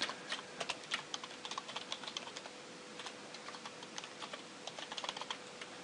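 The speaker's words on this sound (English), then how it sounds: "we'll just enter the URL of the website" Someone types a website address on a computer keyboard: rapid, irregular clicking of keys in short bursts, close and clear over a quiet background, with no voices.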